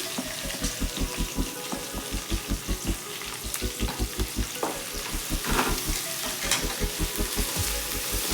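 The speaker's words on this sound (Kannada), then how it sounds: "ಇವಾಗ ಈರುಳ್ಳಿ ಹಾಕೋತಾ ಇದ್ದೀನಿ" Two medium onions, thinly sliced and frying in a pan for a chicken liver pepper fry, give a continuous close sizzle over a steady, regular low thumping rhythm, with no voices.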